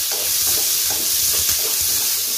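Chopped onions fry with curry leaves in a pan while being stirred, a steady close sizzle throughout with soft scraping strokes beneath, no voices.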